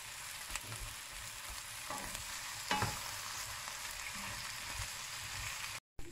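Onions for French onion soup frying over medium heat while being stirred, a steady close sizzle with occasional scraping strokes and a brief cut near the end.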